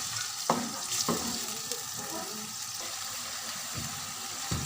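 Onion paste frying in a karahi for Karachi-style Cholistani chicken karahi: a steady moderate sizzle with a few sharp spoon knocks and stirring scrapes, alone without voices.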